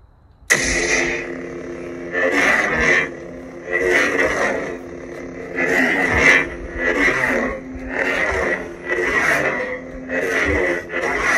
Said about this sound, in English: It's a nice kick out ignition sound there.